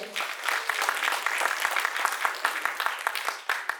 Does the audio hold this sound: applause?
yes